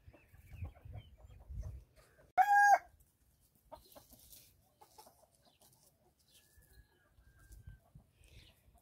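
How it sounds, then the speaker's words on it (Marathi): A rooster crows loudly once in the morning at a rural home, a single bright call of about a second, with soft clucking of chickens and low background murmur around it. "पहा कोंबड्या कशा ओरडतायत"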